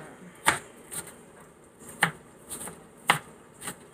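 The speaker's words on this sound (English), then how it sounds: "just chop this ice from around here" Built-up ice is chopped from around the inside of a deep freezer in a series of sharp, close strikes spaced about half a second to a second apart.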